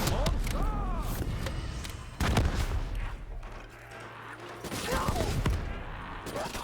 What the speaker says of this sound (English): Projectile launcher.